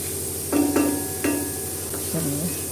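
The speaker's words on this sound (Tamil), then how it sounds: "இதை நல்லா இப்படி வதக்கி விட்டுடுங்க" Agathi flowers being stir-fried in a pan for a poriyal, with a few quick scraping stirs of a spatula over a soft steady sizzle, close and fairly quiet, no talking.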